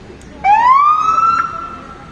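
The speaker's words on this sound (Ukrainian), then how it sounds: "Еще одна пожарная машина приехала." A fire engine's siren rises in one long upward wail and holds, loud and close, over murmuring background voices.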